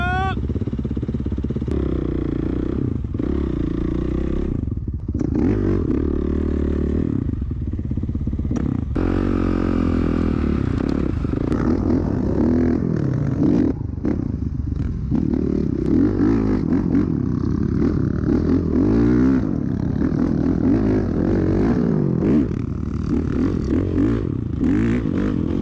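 Dirt bikes rumble and rev close by at the Glamis dunes at night, a continuous engine drone with rising throttle bursts and scraping clatter, under some talk.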